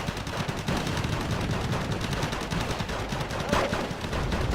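Rapid gunfire crackles nonstop in the real-time strategy game Wargame: Red Dragon, with dense overlapping bursts of distant automatic fire and no talk.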